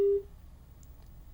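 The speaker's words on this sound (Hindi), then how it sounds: "लगता है कर्ण सिंह जी से हमारा संपर्क टूट गया है।" A telephone line tone after a caller on a live phone-in broadcast drops off, a brief steady tone at the start that cuts out into low line hiss.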